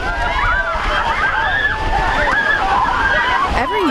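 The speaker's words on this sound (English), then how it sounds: "They jump into the icy water of Tuttle Creek" People jumping into icy Tuttle Creek lake water in freezing cold for a Special Olympics benefit, splashing and sloshing steadily under a busy, loud mix with voices and squeals.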